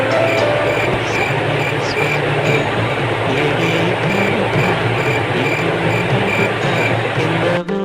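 A loud, continuous train rumble with rolling wagon and rail noise runs steadily throughout, used as a meme sound effect, and cuts off abruptly at the very end.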